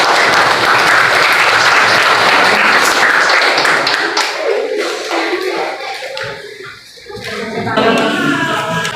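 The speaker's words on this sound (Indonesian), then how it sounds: "Kasih aplaus buat kelompok 1." A classroom audience applauds a student group after its presentation, dense clapping that is loud at first and then thins out into scattered claps with some voices beneath.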